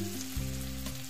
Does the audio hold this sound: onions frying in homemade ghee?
yes